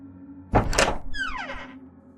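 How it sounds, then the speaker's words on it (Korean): A door opens as a sound effect in a Korean horror audio drama: a heavy thunk of the latch followed by a drawn-out creak that slides downward and fades, heard alone over a quiet background. "서진이 먼저 문을 열고 들어갔다."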